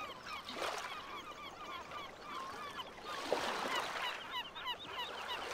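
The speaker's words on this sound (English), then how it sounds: "listen to the sound of that water if it wasn't for the seagulls" In a video game, gulls call over and over in a noisy flock above a steady wash of water.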